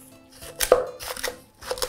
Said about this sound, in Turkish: Şimdi bunu bir tahta kaşıkla beraber böyle eze eze